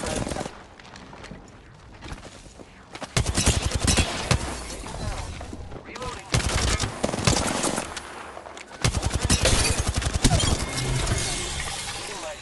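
Loud bursts of automatic video-game gunfire come in several waves with short pauses between them, the shots sharp and close. Crackling, shattering hits mix in, and a voice talks faintly at times.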